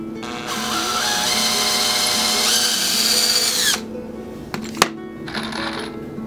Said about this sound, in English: so I can get a nice straight pilot hole into the corner here